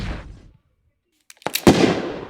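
An RPG firing fireworks in a mobile video game gives a sharp launch burst and crackling blasts after a brief silence, loud and close, with a fading rumble at the start.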